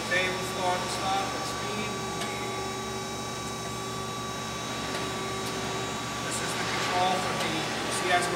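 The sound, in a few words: Chevalier FSG-2A618 hydraulic surface grinder running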